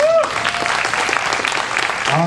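A crowd applauds a performer at the Rowlett Sings 2024 community singing event, with loud, dense clapping that runs steadily from start to finish while a voice speaks over it.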